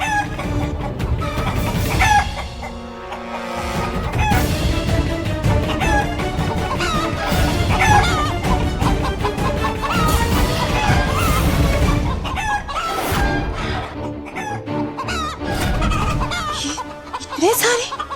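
Many chickens and roosters cluck and squawk together in a crowded, continuous flock inside a home, loud and near, mixed with music and brief speech.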